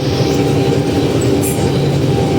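Claas Dominator 58s combine harvester driving in second gear at about 7 km/h, a loud continuous rumbling and rattling drone close by, with no talk.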